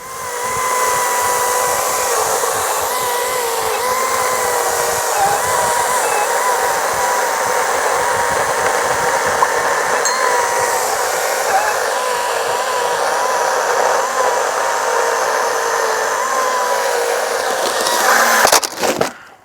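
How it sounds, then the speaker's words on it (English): A Hychika 40-volt max cordless battery chainsaw runs in a long continuous electric whine, steady and loud at close range, ending with a short clatter as it stops. "Hychika 40 volt max cordless battery operated chainsaw."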